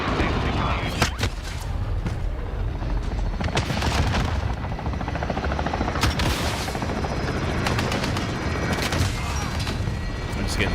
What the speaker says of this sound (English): I have no clue where this helicopter is, but it sounds like it is right next to me.